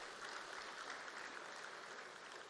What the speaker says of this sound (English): Please let's give ourselves a big round of applause.